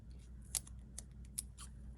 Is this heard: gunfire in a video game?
no